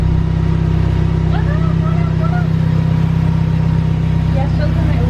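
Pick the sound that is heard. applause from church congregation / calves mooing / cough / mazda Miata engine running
mazda Miata engine running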